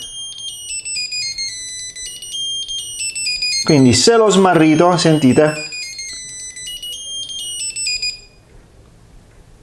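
A shrill, high-pitched electronic beeping alarm from a tracker card rings repeatedly in a pulsing pattern, while a person speaks briefly in Italian over it partway through.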